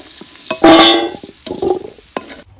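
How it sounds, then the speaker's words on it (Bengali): Potatoes frying in a pan with a little turmeric, giving bursts of sizzling and stirring scrapes, loudest in one strong surge near the start and then lighter clatter, with no talk. "এখন অল্প হলুদ দিয়ে দিলাম। এখন আরো অল্প সময় ভেজে নিব।"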